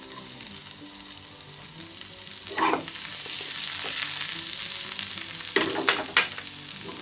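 Garlic fries in a pan over high heat with a steady close sizzle, broken by a few louder scraping stirs near the start and again toward the end.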